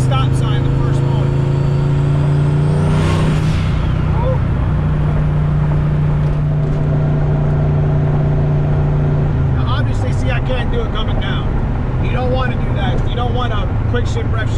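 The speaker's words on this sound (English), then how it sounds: "I'm going to quick shift rev match." Manual transmission car engine revving and dropping through clutchless rev-matched shifts, heard from inside the cabin as a loud steady engine drone rising and falling, with someone talking over it.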